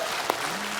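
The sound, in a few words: studio audience applause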